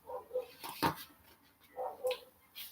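A dog gives a few short, faint barks spaced out over a quiet background, with brief whimper-like yelps between them.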